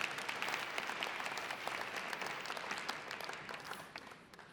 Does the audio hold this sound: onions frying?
no